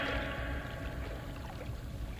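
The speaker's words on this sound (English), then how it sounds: "Not a sound. Only that splashing water." Water splashing from a fountain, heard as a continuous, moderately quiet rushing and trickling wash with no talking over it.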